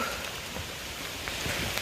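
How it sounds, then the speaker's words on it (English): Heavy rain pours down in a steady, even hiss, fairly quiet and unbroken, with no voices over it. "it's pouring down"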